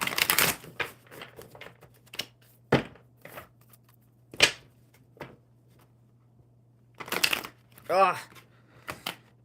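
Playing cards are riffled and bridged in short bursts of rapid fluttering clicks, close and fairly loud, separated by quiet pauses with a low hum underneath and brief speech.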